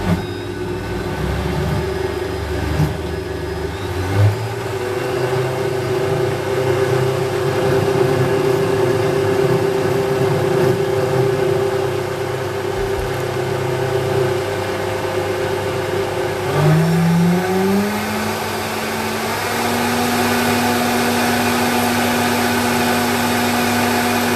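A blender whizzes a sea moss detox smoothie with dulse, a loud steady motor whine that runs throughout, shifting pitch partway as the blades catch and free up stuck pieces.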